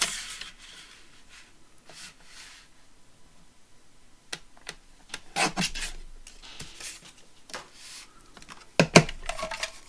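Paper for a craft journal being trimmed, heard as sparse scraping and rasping strokes with a few sharper close clicks and swishes, quiet between bursts and busier near the end.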